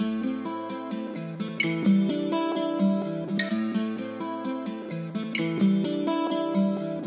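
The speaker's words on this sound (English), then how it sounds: "the first sound we got is this guitar loop that I just loaded in Kontakt" Sampled guitar loop playing from Kontakt in a Pro Tools beat session, a steady repeating plucked pattern with crisp attacks, clear and alone.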